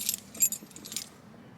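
Car keys for a Toyota AE86 jangling in a hand, a few bright metallic shakes and clinks up front that trail off into quiet.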